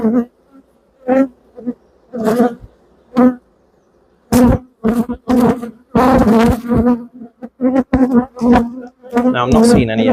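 A honeybee colony hums and buzzes during an open hive inspection, a steady drone running beneath a man's close, intermittent talk throughout.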